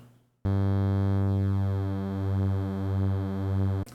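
A bright, buzzy Waldorf Blofeld wavetable synthesizer lead holds one sustained note, its detuned layers beating and swirling slowly, starting abruptly and ending cleanly.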